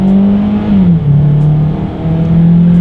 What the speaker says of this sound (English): Let's do a quick little acceleration in the 2019 Tucson and see how quickly we can get this one here up to speed.